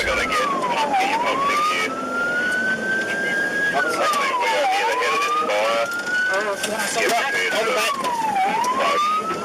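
Fire engine siren wailing in repeated rising and falling sweeps near a huge cloud of smoke from a disaster, loud and continuous, with people talking over it and traffic noise underneath.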